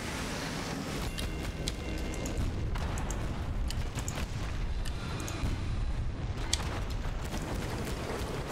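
A ship's guns fire at a Dreadnought in the game Sunless Skies: heavy booming shots and rumbling impacts roll together into a continuous, loud barrage.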